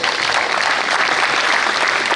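An audience at a builders' conference in Lagos applauds after a speech, a dense, steady clapping that fills the room throughout at an even level.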